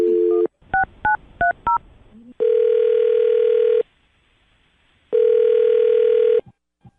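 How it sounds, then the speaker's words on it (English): Touch-tone keypad beeps sound in a quick series, followed by two long ringback tones separated by a pause, clear and close. "I'm going to dial her number and see if we can get her on the phone."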